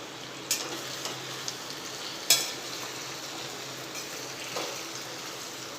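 Water hitting hot oil in a pan of moong dal muthiya, producing a continuous close sizzle and crackle with a few sharp pops and spatters.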